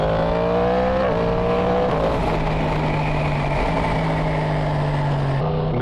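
A 2023 Yamaha MT10 motorcycle with a Woolich remap roars loudly and steadily on the road, its engine note holding and shifting slightly in pitch over heavy rushing wind.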